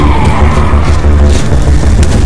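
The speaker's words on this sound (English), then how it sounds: "There's the entire field's full of explosions" Explosions fill a field in the video game Saints Row 4, a dense, loud, continuous roar of blasts and rumble with no distinct pauses.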